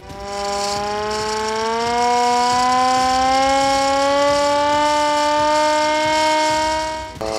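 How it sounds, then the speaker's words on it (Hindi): A hand-cranked civil defense siren used for high alerts sounds without electricity, its tone rising and then holding as a loud, steady, nearby wail for several seconds before dropping off. "यहाँ बगैर किसी बिजली के जो एक सायरन बजाया जाता है हाई अलर्ट के लिए, वो सायरन मौजूद है"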